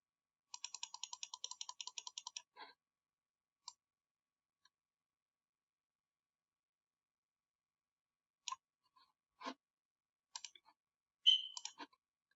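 Computer keyboard keys clicking in a quick steady run for about two seconds, then scattered single clicks and short bursts later, close and fairly quiet with no talk.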